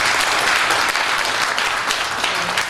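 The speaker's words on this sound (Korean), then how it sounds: "박수 한번 쳐주시죠." A forum audience in a hall bursts into dense, sustained applause, many hands clapping loudly and evenly throughout.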